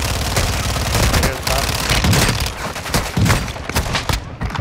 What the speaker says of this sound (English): I sniped him, with my sniper al último